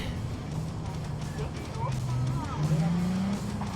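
A car driving and accelerating in Cyberpunk 2077, steady engine drone rising in pitch with a brief tire squeal, heard close under voices talking throughout.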